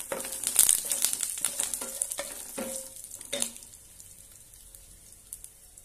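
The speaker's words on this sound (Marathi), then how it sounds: "आता यामध्ये थोडासा कढीपत्ता तो पण परतून घेऊया" Curry leaves frying in hot oil for a raw-mango rice dish: crackling sizzle with a series of sharp spattering pops and utensil stirring scrapes, loud at first and tapering to a softer hiss.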